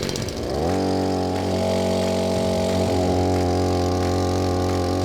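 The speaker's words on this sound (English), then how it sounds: "Well, let's start the engine and set sail." Outboard motor on a homemade floating house sputters to life, then holds a steady, buzzing idle. The sound is loud and close throughout, with no voices.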